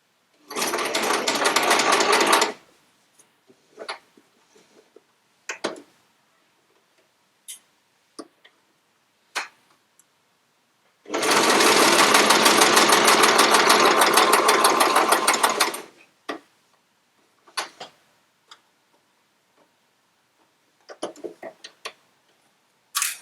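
Sewing machine stitching quilt pieces, running in two bursts of steady rapid stitching, a short one at the start and a longer one mid-way, with quiet ticks and handling clicks between them.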